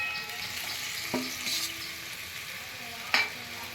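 Okra (bhindi) sizzles softly in a pan while being stirred, a quiet continuous frying hiss broken by a few utensil clicks and scrapes, nearby and without talk.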